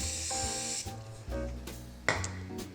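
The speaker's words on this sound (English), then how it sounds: "I'm going to spray a bowl here with a bit of non-stick cooking spray" Non-stick cooking spray hissing into a bowl in a kitchen, heard as several short, sharp bursts of spray over a steady tonal background.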